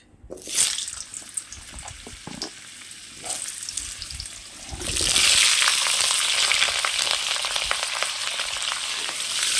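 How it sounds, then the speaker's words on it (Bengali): Diced potatoes drop into hot oil in a wok, a few clunks and soft sizzling at first, then a loud sustained hissing fry that fills the rest of the clip, close and continuous with no talk. "তেল গরম হয়ে গেছে, আমি এখন এর মধ্যে দিয়ে দেবো আলুগুলো"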